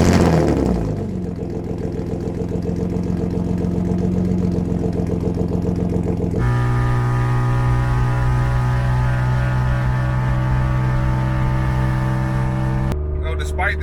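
A loud BMW E36 drift car engine idles roughly and then revs in sustained steps, the harsh droning exhaust note rising in pitch and holding before cutting off abruptly near the end.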